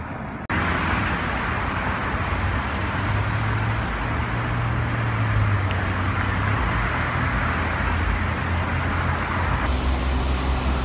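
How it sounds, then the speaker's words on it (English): Steady roadway noise from delivery trucks and passing cars on a busy Hollywood street, a continuous loud rumble with engine drone throughout and no talking. "I don't know if you can hear me over the sound of the delivery trucks across the street."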